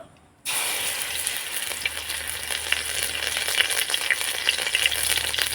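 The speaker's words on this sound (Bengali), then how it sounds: "তেজপাতা নিয়েছি একটা চিড়ে নিয়েছি ফোড়নটাকে হালকা নাড়াচাড়া করে ভেজে নেব" After a brief silence, a loud, steady sizzle bursts in as a bay leaf and dried red chili temper in hot oil and are stirred lightly, the frying hiss continuous and close.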